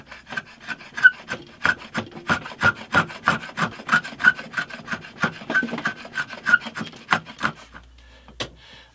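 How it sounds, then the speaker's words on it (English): A hand plane shaves the end grain of a laminated wooden head block for an acoustic guitar, making a fast, even series of about twenty rasping strokes close up with no talking. "Oh, I love planing end grain."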